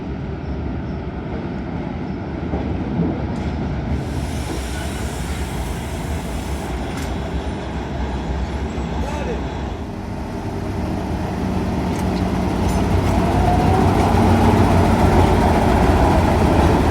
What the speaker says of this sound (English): Train from the mine has just arrived to the facility.